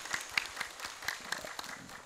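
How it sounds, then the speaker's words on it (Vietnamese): A church congregation claps during a festive Mass, light scattered clapping that sounds distant and faint, with no talk over it. "chúng ta cũng cho nhau một tràng pháo tay thật lớn"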